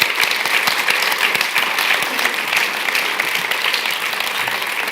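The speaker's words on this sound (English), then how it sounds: "Can we have a quick round of applause" Audience at a sustainable plastic packaging summit breaks into steady, dense applause that fills the whole stretch at an even level, with no talk over it.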